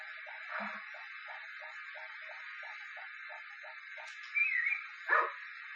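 A steady rhythmic ticking pulse from the Harvest Moon Back to Nature video game runs through most of the clip. A short chirpy bark sounds near the end, then a second brief bark, all over a constant hiss.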